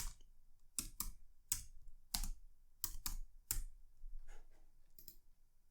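Computer keyboard keys tapped in short bursts and single clicks, crisp and close in a quiet room, with brief pauses between groups of keystrokes and no voices.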